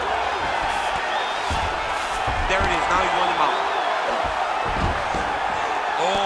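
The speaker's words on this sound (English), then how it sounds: "crowd just loving it as the fighters, after an extended grappling battle, make their way back to the feet" A crowd at an MMA fight roars steadily throughout, rising in cheers as the fighters return to their feet after extended grappling, with commentators talking over the noise.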